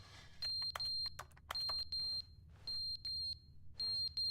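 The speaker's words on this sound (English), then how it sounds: "Why am I hearing an alarm clock?" A repeating electronic alarm clock in The Stanley Parable, a game, beeping in short bursts of rapid high pitched tones with brief gaps between them, loud and close, with no talk over it.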